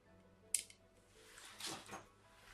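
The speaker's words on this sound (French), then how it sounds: "Je vais essayer avec mon ciseau." Scissors snip through a plastic nail gel package with one sharp cut, followed by crinkling and rustling of the wrapper as it is opened, close up and fairly quiet.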